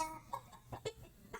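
Chickens cluck in a few short, separate calls spaced about half a second apart, fairly close but quiet, over faint background noise.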